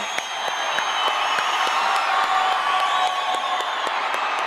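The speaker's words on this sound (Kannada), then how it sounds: "ಇವರಿಗೋಸ್ಕರನೇ ಒಂದ್ ಚಪ್ಪಾಳೆ ನಾವಿಬ್ರು ಕೊಡೋಣ ಗುರುಜಿ ಅವರಿಗೆ" A stage audience claps steadily for a singing guru, a dense sustained applause with scattered cheers, fairly loud and unbroken throughout.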